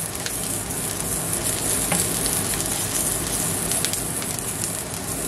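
Food browning in a frying pan gives a dense, constant close sizzle with faint crackles and occasional light pan noises, and no voice.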